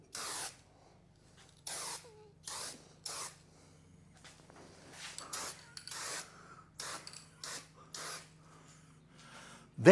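An aerosol turbo spray paint can, used to paint a BSA wedge tank, hisses in about a dozen short, sharp bursts separated by quiet pauses, with a low hum underneath.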